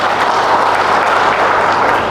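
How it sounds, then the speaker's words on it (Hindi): A church congregation bursts into loud, dense clapping that holds steady and unbroken from start to finish, with no one speaking over it. "एक बार तालियां बजा दो।"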